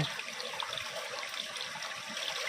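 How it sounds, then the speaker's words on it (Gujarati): Water gushes steadily from a tap opened to a medium flow to irrigate a wheat field, a continuous close rushing hiss with no voices. "બરાબર મીડિયમ આપણે નળ ચાલુ કરી દેતો છે"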